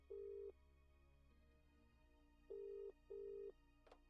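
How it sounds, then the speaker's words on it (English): Phone keypad tones in the video game Dark Side of the Moon: three steady beeps, the second and third close together, over a low background hum, ending with a short click. "Call Julian."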